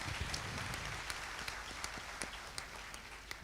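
A theater audience applauds, a steady wash of many hands clapping at moderate distance, dense and continuous, with a few sharper individual claps poking through.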